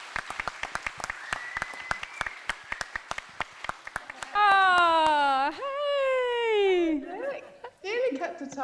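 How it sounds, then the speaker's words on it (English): An audience at a national grand final event gives a round of applause: scattered, fairly faint individual claps at first, then loud whoops and cheers rising over the clapping toward the end. "can we give Jess a massive round of applause?"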